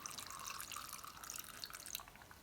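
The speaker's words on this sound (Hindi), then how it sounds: "इसमें से ना थोड़ा सा हम ये पानी भी ऐड कर लेंगे" Water trickling and splashing into a grinder jar of chopped vegetables for drumstick (moringa) soup, a steady light pour with faint dripping that tapers off near the end, heard alone.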